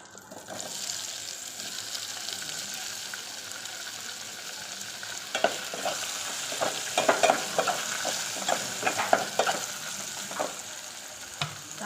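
Tomatoes fry in a pan for a stuffed eggplant curry, giving a steady soft sizzle that runs throughout, with scraping stirring strokes growing more frequent in the second half.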